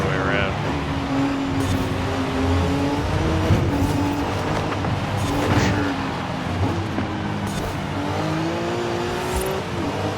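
Race car engine droning steadily in the Forza Horizon 5 racing game, its pitch rising and falling through gear changes with brief tire squeal, loud and continuous under a person talking.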